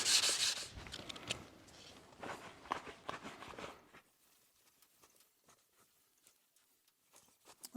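Metal clamp faces are rubbed on 400 grit sandpaper in a workshop, producing close, scratchy back-and-forth strokes for about four seconds before the sound stops and near silence follows.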